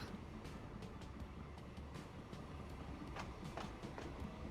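A train runs in the Transport Fever 2 simulation game, a steady low rumble of rolling carriages with faint rhythmic clicks, continuous and fairly quiet with no voices.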